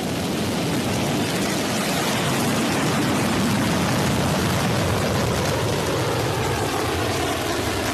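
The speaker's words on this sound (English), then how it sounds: "In liftoff." Blue Origin New Shepard NS-29 rocket at liftoff, a loud, steady broadband roar of rocket exhaust that holds constant throughout, with no voices.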